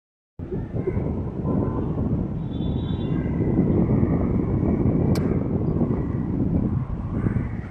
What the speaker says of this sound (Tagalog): Grabe ang hangin at ang simoy ng hangin